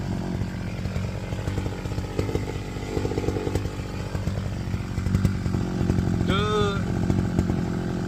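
A brush cutter cuts the tops of pepper stalks in a field, its engine droning loud and steady throughout with shifting load; a brief voice or whine rises near the end.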